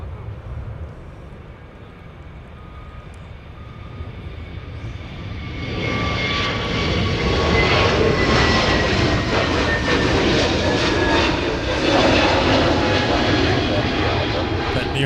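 Jet engines of Airbus Neo airliners at Minneapolis–St. Paul airport, a steady roar that swells louder about six seconds in and holds as a broad rushing drone with a faint whine, under occasional talk.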